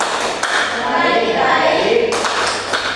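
Classroom children do the 'Tepuk apa kabar' clapping chant, their voices in unison with a few sharp claps punctuating the rhythm, fairly loud and close.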